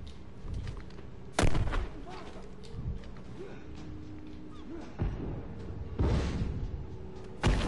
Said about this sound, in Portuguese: Tentei explodir a bomba deles ali também